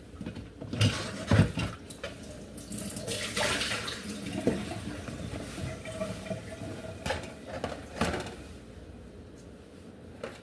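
Fruit being rinsed under a running tap, a steady splashing water stream with occasional louder splashes and clunks as the produce is handled in the sink.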